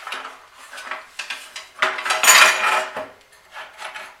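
Plastic knobs on a TELMOR DVB-T antenna are twisted loose by hand, giving a series of short scraping, clicking rasps with a louder grinding burst midway, close up and without talk.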